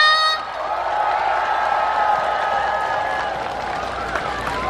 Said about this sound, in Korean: 우리 대단한 축제를 위해서 응원의 박수 한번 보내볼까요? 박수와 함성!